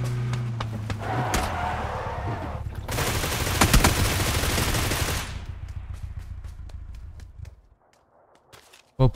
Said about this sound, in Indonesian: suaranya mirip itu loh apa P90